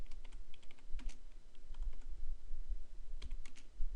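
Steady typing on a computer keyboard, with clusters of soft key clicks in irregular bursts over a low rumbling background, moderately close.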